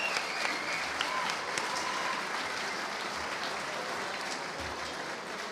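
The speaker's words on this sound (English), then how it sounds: "Please give our sponsors and underwriters a deserved round of applause." A banquet audience at a basketball writers association event gives sustained applause, dense and even clapping that holds at a steady moderate level across the whole stretch.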